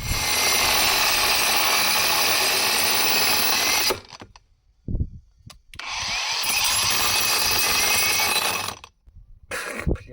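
A Revolt cordless angle grinder runs loud and steady for several seconds, cuts out with a couple of brief knocks, then spins back up to full speed before stopping again.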